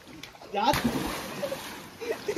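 A person jumps into a swimming pool at a Konkan home during Ganpati festivities, producing a loud nearby splash followed by sloshing water, with voices talking before and after.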